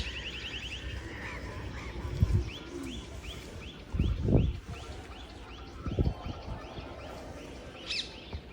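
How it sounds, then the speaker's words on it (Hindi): Birds calling in the early morning near a sacred grove and lake on the Barsana pilgrimage circuit: a rhythmic series of repeated chirps runs throughout, with a few louder, deeper honk-like calls standing out now and then. "सुबह सुबह चिड़ियों की गूंज, चहचहाट"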